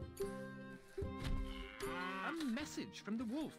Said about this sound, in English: You go for cows, so you go here.